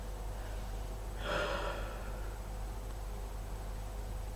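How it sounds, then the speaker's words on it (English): A single deep breath drawn in, a soft, brief airy rush over a steady background hiss, with no talking. "Deep breath."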